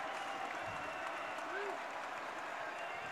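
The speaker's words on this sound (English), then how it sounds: "Crowd's getting into it now, Kendall." Dense, steady roar of a basketball crowd at the Holmes Convocation Center during an East Tennessee State at Appalachian State game, with broad applause and cheering holding level throughout and commentary voices mixed underneath.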